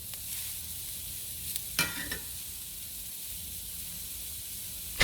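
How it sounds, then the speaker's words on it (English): Shrimp sizzle steadily in a hot pan for cantina shrimp fajitas, a close, even hiss broken by a couple of brief louder crackles, with no talking. "the shrimp are cooking really fast"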